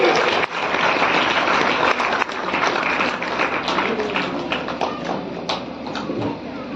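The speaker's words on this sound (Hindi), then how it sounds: "एक बार जोरदार तालियां हो जाए भैया के लिए।" Audience applause at a school award ceremony during a 14 November program in Sarai Akil, Kaushambi: dense, steady clapping from a crowd that fills the whole stretch and eases off slightly toward the end.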